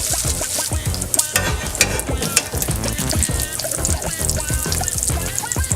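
Bacon frying in a pan for a BLT, a loud, steady sizzle and crackle with dense popping fat running continuously throughout, no voices.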